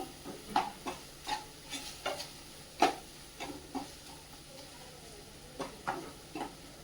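Onion sautéing in a pan for lemon rice, a soft low sizzle under repeated clattering stirs and scrapes of a spoon against the pan, irregular and close, with no talking.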